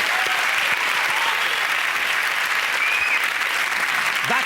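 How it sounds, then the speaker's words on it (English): Studio audience applause at the end of a British comedy panel show, a steady, loud, dense roar of clapping that fills the whole stretch without letup. "With a round of applause for everyone involved."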